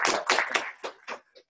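A small audience at a spring seminar on blockchain claps to welcome the guest speaker: a few short, separated bursts of hand claps that grow sparser and fade out.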